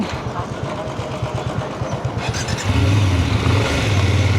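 A BMW motorcycle pulling away from a toll plaza on a road trip, a close engine chugging with rapid, pulsing firing beats that shifts into a louder, steadier drone midway.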